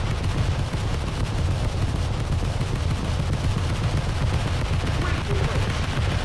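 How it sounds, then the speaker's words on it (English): Anti-aircraft guns blaze during a naval battle in a video game, a dense, continuous din of rapid gunfire and rumbling blasts with no pauses across the whole stretch. "With its many anti-aircraft guns."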